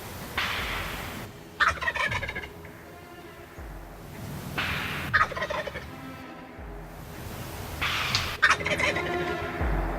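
A wild turkey tom gobbles three times at regular intervals, each a loud rattling burst, over quiet outdoor background.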